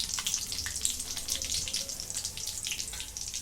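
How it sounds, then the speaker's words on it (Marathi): Cumin seeds sizzling in hot oil in a pan, a steady close hiss and crackle without pause, heard alone. "आता या तेलामध्ये जिरं टाकून घेते"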